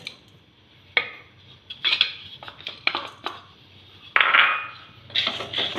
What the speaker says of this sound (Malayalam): നമ്മുടെ പാൻ ചൂടായിട്ടുണ്ട്, ഞാൻ അതിലേക്ക് ഉഴുന്നിട്ട് കൊടുക്കുകയാണ്.